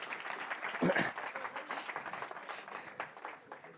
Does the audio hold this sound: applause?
yes